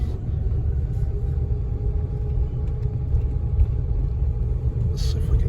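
The Plymouth Gran Fury's engine runs poorly with a freshly fitted carburetor during a test drive, giving a steady, loud, low rumble from inside the moving car with slight unevenness and no talk over it.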